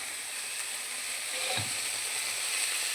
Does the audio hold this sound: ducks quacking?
no